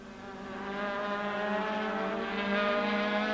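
Onboard a 1995 BMW super touring race car at Kyalami, the engine howls at high revs through a fast sweeping corner, a steady buzzing drone that swells slightly as it pulls hard.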